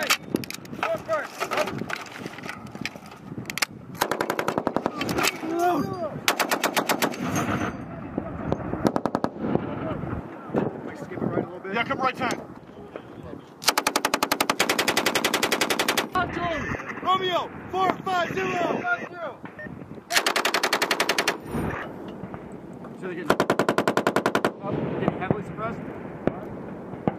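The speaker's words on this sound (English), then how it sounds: "when you do this volley, it's gonna be one shot, like one burst with each gun that's gonna switch" Marines fire machine gun bursts during a live-fire exercise at 29 Palms. Repeated loud, rapid volleys crack out in several clusters among outdoor wind noise, with voices talking between and over the bursts.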